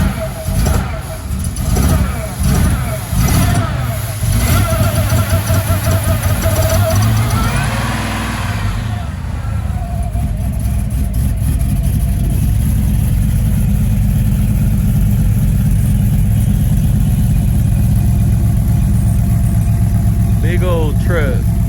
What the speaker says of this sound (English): is this big ass Whipple supercharged Dodge Ram